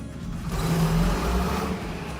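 Engine of an old John Deere tractor in Farming Simulator 25, a steady low rumble that swells slightly as it revs, close and continuous with no talk over it.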